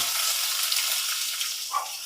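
Steady high crackling sizzle of curry leaves in hot oil, close and continuous, with a brief louder spurt near the end.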